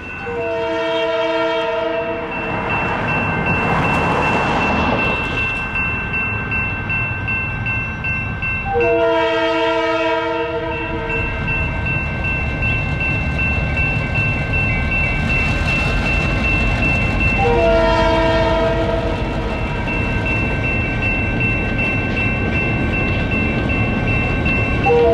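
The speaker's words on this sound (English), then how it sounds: "Amtrak station agent Brian Karhoff paid careful attention to the train as it made its way through the crossover" A train crosses through a crossover on the Adrian & Blissfield Railroad, sounding three loud, sustained multi-tone horn blasts spaced several seconds apart over a steady rumble of rolling wheels.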